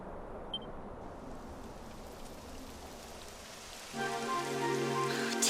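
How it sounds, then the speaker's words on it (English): Rain falls in the video game Dragon Quest XI, a soft, steady hiss of drops on the ground that keeps up throughout, joined near the end by a louder layer of game ambience and music tones. "It would have to go and start raining, wouldn't it?"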